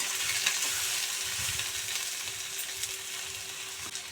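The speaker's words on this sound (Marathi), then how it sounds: "थोडंसं कांदा वगैरे मी परतून घेतलेलं आहे तेलामध्ये" Steady sizzling of onion frying in hot oil, constant and close, with occasional scraping stirs and no talking.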